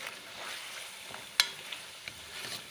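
Peas going into a chicken curry in a pan and being stirred, with a soft sizzle, scraping stir strokes and one sharp clink of the spoon.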